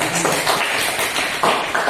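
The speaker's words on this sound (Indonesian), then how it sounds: "Tepuk tangan untuk Al-Bidayah" Classroom applause for a student during a simulated lesson, a dense patter of hand claps from a small group at close range, steady across the moment with a few sharper bursts.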